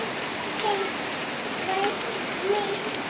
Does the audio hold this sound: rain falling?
yes